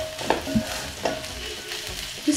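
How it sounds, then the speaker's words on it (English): Tinned tomato paste fries briefly in a pan, a moderate sizzle with a few soft stirring knocks and scrapes spread across the moment, no voices. "I'll just fry it a little bit for about a minute or so."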